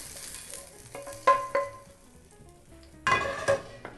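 Smoked sausage and okra sizzle softly in a gumbo pot while a spoon scrapes and knocks against the sides in a few distinct stirring strokes, quiet and close.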